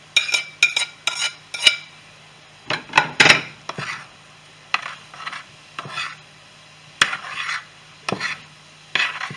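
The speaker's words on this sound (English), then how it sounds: "Let's add our cold sticky rice in." Cold sticky rice stirred into a pan of shrimp fried rice, giving a series of short, close scraping and clattering bursts with brief quiet gaps between them and no talking.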